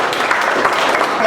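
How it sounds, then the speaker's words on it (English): A brief spatter of audience applause for a speaker at a business talk on enterprise sales, short and fairly close, with a voice mixed in underneath. "Round of applause."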